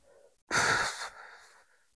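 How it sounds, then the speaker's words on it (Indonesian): A single slow breath pushed out through pursed lips, as in whistling, close to the microphone, a soft airy rush lasting about half a second before fading into a faint trail. "lalu keluarkan napas saudara dari mulut ya, seperti orang bersiul"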